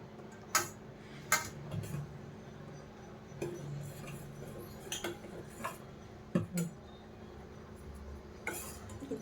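A spoon stirs a millet noodle mixture in a metal pot on a home stove, giving scattered, irregular clinks and taps against the pot over a low steady background, with no talking.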